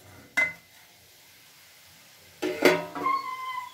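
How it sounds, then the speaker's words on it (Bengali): Metal lid lifted off a pot of gooseberries simmering on the stove, a short clink followed after a pause by a louder clatter and scrape of metal against metal, close by and with no talk. "এবার ঢাকনাটা খুলে নেব আমি।"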